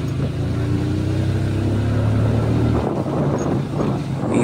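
A motorbike climbs a hill road toward Pareshnath hill near Giridih, its engine droning steadily with shifting pitch amid wind rush, close and continuous.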